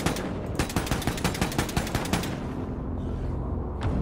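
Rapid bursts of automatic gunfire in the video game Wolfenstein 2: The New Colossus, a loud close string of shots for about two seconds, then a pause and one more lone shot.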